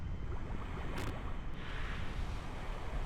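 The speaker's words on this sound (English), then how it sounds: "Splash down at Kerbal Shores." A steady roar of ocean water and wind follows a spacecraft splashdown at the shores in Kerbal Space Program, the video game, with constant loud rushing and no voices.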